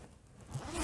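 Zipper on a sewn faux fur vest being pulled up, one short rising zip close by that grows louder toward the end, with no talking.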